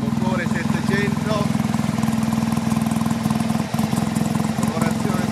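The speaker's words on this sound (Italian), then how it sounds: "Questa mattina abbiamo messo in moto questo bellissimo motore 700" A tuned Fiat 500 700cc engine runs on a workshop test, a loud, close, fast-pulsing idle that holds steady apart from a brief dip, with faint talk in the background.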